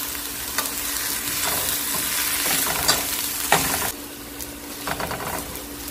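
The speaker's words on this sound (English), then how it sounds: "I'm just about to saute my scallions so I can add it to my mashed potatoes. And I just sauteing it with a little bit of avocado oil." Scallions sauté in avocado oil in a pan, a close bright sizzle with bursts of stirring scrapes and crackles coming and going over a few seconds.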